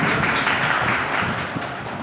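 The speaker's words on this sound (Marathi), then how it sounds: "जोरदार टाळ्या वाजवा तिच्यासाठी।" An audience of trainee teachers claps steadily for a student's performance, a dense, even round of applause throughout.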